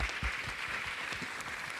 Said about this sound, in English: Could you all please join me in giving them a round of applause?